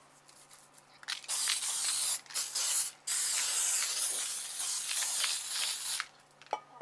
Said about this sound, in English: shake up our little can of baking spray